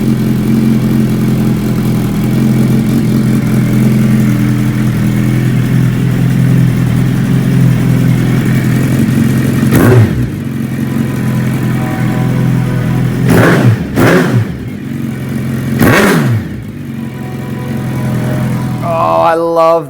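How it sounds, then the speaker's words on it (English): A motorcycle engine idles with a deep, throaty rumble through a Brock's Performance exhaust, then blips the throttle in a few sharp revs near the end. "hear that amazing exhaust system come to life"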